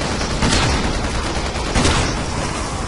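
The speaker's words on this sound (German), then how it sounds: "Ein Zombie, der schießen kann." Dense, continuous bursts of gunfire from an armed zombie in Resident Evil 6, loud and sustained with a couple of heavier volleys, no talk over it.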